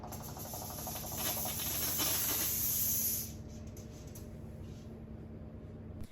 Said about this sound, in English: Here's a visual of what it looks like when the steam is released